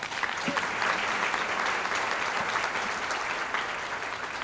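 Luncheon audience giving a steady round of applause for a bank president, many hands clapping evenly at moderate distance for several seconds without talk.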